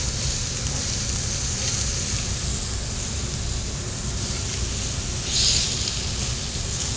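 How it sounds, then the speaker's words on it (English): Butterflied chicken cooking on a grill, a constant dense sizzle with a low roaring rumble underneath, steady throughout with a brief brighter crackle late on, close by and with no voices. "I'll just do it right on the grill"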